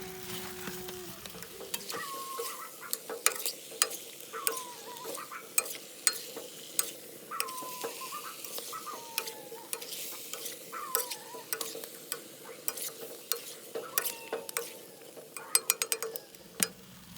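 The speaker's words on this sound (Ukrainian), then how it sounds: "І ще раз перемішуємо." Food sizzles steadily in a cast-iron pot of potatoes and meat, with curry powder just added, while a utensil scrapes and stirs in repeated strokes, with small clicks and taps throughout and no talking.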